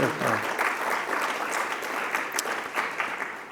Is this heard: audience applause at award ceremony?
yes